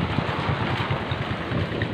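Heavy rain and gusting wind roar continuously during a thunderstorm that has knocked out the power, a dense close wash with buffeting low rumble and no speech.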